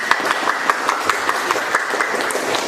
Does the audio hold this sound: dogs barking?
no